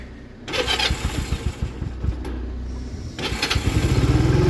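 A Honda CD 175 motorcycle, a barn find under restoration, cranks over and fires up with the choke off, settling into an uneven, sputtering idle that steadies toward the end, loud and close.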